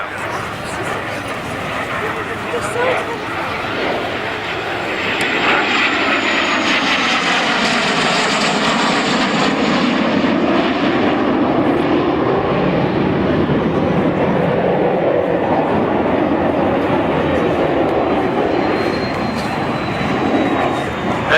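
Aircraft at an air show display at Baldonnel, a type first flown in 1949, passes overhead with a loud, continuous engine roar that swells and holds steady across the pass.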